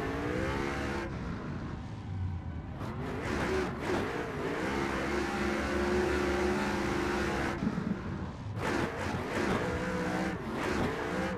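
A 1,000-horsepower Ford Mustang RTR Pro is driven hard on a track, its engine revving up and down in loud surging pulls with brief lifts and tire noise, close and continuous with no talk over it.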